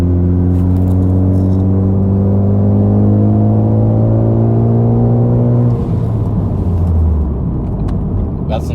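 A Ford F truck engine at full throttle, a deep steady drone with rising harmonics that climbs for several seconds, then drops off abruptly as the throttle closes, heard from inside the cab.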